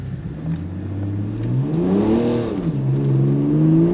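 A BMW 530d M Pack diesel pulls away from a standing start, its engine note climbing steadily, dipping as a gear changes and climbing again, loud and close inside the car with no voices.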